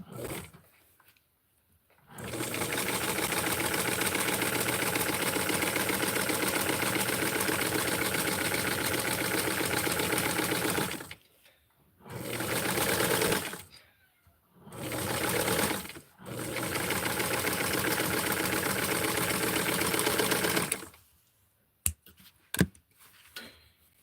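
A sewing machine stitches fabric for a Tutti Flower Power project in long steady runs, a loud continuous mechanical whir that stops and restarts in several bursts, with brief quiet gaps and a few clicks near the end.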